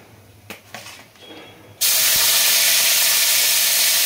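Shrimp dropped into a little hot oil in a wok, bursting into a loud, sustained sizzle and spray that starts suddenly after a few quiet clinks and carries on alone.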